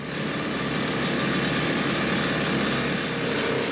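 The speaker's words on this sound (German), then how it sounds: "Bohrlöcher setzen im Minutentakt." Heavy drilling rig boring blast holes into limestone in an underground mine, a loud, steady mechanical drone with rattling vibration running continuously and close, no voices.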